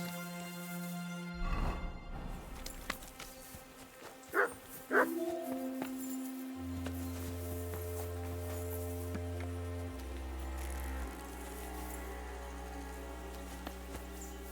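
Dog in Kingdom Come: Deliverance 2 letting out a couple of short barks and whimpers over steady game music and ambience, with quiet voice in the background.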